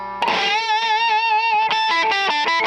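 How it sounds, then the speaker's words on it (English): Electro Harmonix distortion pedal with its sensitivity off, giving a half-cocked wah tone: a sustained, harmonically rich note rings for over a second, then is followed by a series of choppy, rhythmic picked stabs, loud and close with no talking. "You can use it as a standalone distortion by turning off the sensitivity, getting sort of that half-cocked wah sound."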